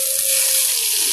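Red lentils (masoor dal) hit hot oil over fried onion, garlic and chili, giving a steady, close, bright sizzling hiss that holds evenly throughout.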